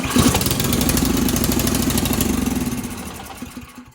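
An Ariens Snow Tek snow thrower engine runs loud and close with a rapid, steady small-engine chug that slowly fades and dies away near the end, with no talking.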